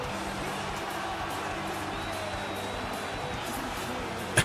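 A steady, dense roar of a large wrestling-arena crowd in the WWE 2K25 video game cheers continuously throughout, with a sharp sound at the very end.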